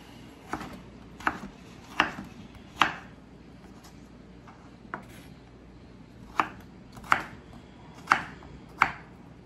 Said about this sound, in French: des dés de pommes de terre. Je vais les faire assez fins, étant donné qu'il y a seulement 60 g de pommes de terre dans la recette.